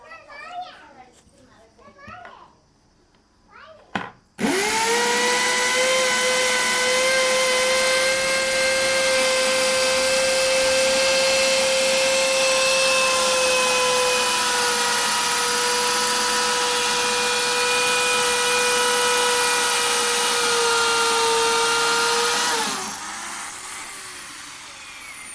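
Power drill with a step drill bit boring into wood, a loud steady whine that holds for about eighteen seconds and then winds down, with soft talk and rustling before it starts.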